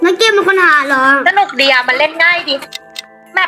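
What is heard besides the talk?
No everyday noise stands out behind the speech.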